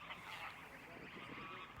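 Greylag geese gathered in a group give soft overlapping honks and murmurs, faint and steady against a quiet outdoor backdrop.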